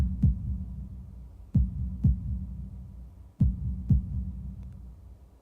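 A heartbeat sound effect in the visual novel Katawa Shoujo thumps in low, deep paired beats, loud and close, repeating three times with pauses and no voices.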